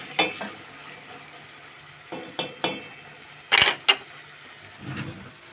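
Onions sautéing in a pan at home, with scattered sharp clinks and scrapes of a utensil stirring against the pan over a low background sizzle, no talking.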